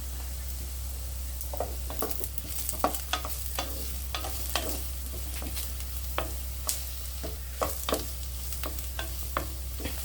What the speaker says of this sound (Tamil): ஒரு ரெண்டு நிமிஷம் நல்லா வதங்கட்டும்